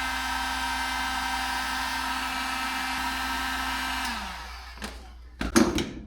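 A heat gun blows a steady, loud whooshing hiss while shrinking heat-shrink tubing over a 2-gauge golf cart battery cable. It winds down after about four seconds, followed by a few brief handling clicks.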